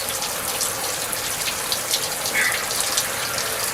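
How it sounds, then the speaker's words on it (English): Water sprays hard from an old, cheap shower head mounted on a raised PVC pipe, a constant hissing patter close by. "I got a piece of PVC pipe up in the air with a shower head on it, real old cheap one, but it sure does work"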